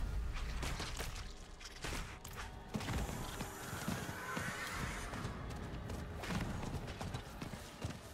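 A horse mount in Diablo 4 gallops with busy, rapid hoofbeats and gives a neigh, all set against dense game effects and clatter.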